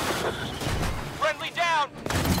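Gunfire and artillery-like blasts rumble in the sci-fi shooter Disintegration, with a dense layer of combat noise and a voice speaking over it.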